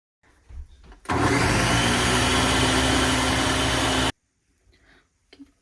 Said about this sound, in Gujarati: હવે આપણો પાલક ક્રશ થઈ ગયો છે.